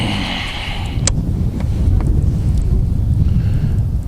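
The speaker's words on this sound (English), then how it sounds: "the wind just picked up pretty good" Strong wind roars into the microphone on a winter fishing trip, a loud rumbling buffet that swells and holds steady for several seconds, with a brief sharp knock partway through.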